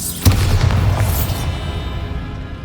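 A Bombarda spell from Hogwarts Legacy detonates with a single sharp, heavy boom, followed by a rumbling tail that fades over a couple of seconds.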